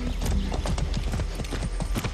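A horse's hooves clip-clop in Far Cry 6, a quick steady rhythm of close, loud hoofbeats over a low background rumble, with no talk.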